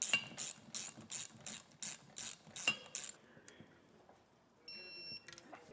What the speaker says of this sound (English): Now I'll get these tightened and torqued down as well.